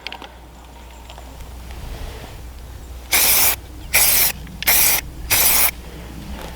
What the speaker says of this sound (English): And then we'll mark it with some spray paint.